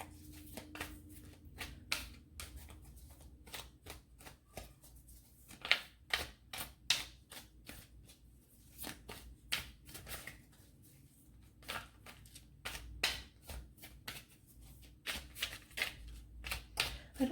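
Tarot cards are shuffled by hand in quick riffling bursts, a rapid run of crisp flutters and slaps with short pauses between rounds, close and clear with no talking.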